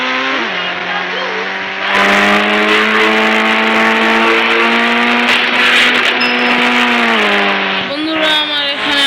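A motorbike engine drones and revs in the Indian Bike Driving 3D mobile game, a loud, steady tonal whine that climbs in pitch, with brief voices in the background.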